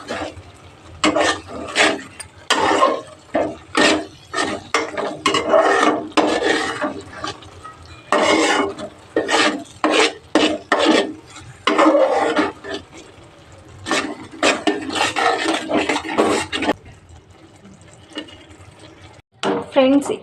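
Carrot halwa being stirred in a pan, a rhythmic run of scraping, clattering strokes of a spoon against the metal with brief pauses, growing sparse toward the end.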